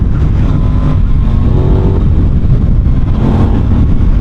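Aprilia Tuono 660 motorcycle engine revving with a strong intake roar, loud and close, steady throughout with no talking.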